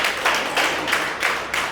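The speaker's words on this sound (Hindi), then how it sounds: "एक बड़े मेहमानों के लिए जोरदार ताली है।" Audience clapping at a live program in Rohini, Delhi: a short burst of hearty applause for guests, with several pulsing peaks over under two seconds and no talking.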